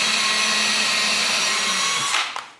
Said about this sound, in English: now I'm just drilling some holes for screws